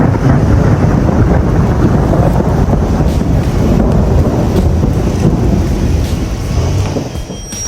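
Heavy rain pounds down with thunder rumbling during a drive on a steep hill road, a dense, loud, continuous roar with wind buffeting the microphone that eases slightly near the end.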